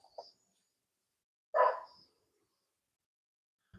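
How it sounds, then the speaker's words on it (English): A dog gives a single short bark indoors at moderate distance, with a faint yip just before it and quiet gaps around it. "Got some dogs barking up in here"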